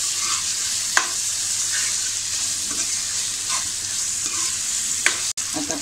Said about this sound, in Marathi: ती पण आपल्याला छान व्यवस्थित अशी परतून घ्यायची आहे.